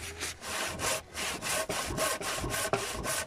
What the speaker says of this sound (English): putting the handsaw into the slot that was made by the circular saw